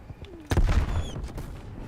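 A frag grenade goes off in a video game with a single sudden boom that rolls into a lingering rumble, loud and close.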